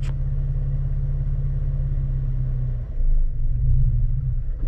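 Manual-transmission car pulling away in first gear during a stick-shift lesson, a steady low engine rumble throughout that swells slightly near the end as throttle is added.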